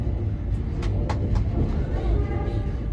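A short KA Kedung Sepur train rolls slowly out of Gubuk station on a speed-restricted, flood-damaged stretch, with a steady loud rumble of wheels and car noise and faint rhythmic rail clicks from inside.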